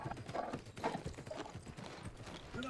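Horse hooves clip-clopping in a steady rhythm while riding in the video game New World, a soft, continuous gallop heard alone at low volume.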